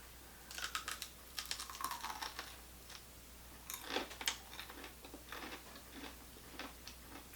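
Quiet crisp crunching bites into fried broccoli-stem fries, a few sharp snaps and chewing crackles in short bursts, close up with no talking.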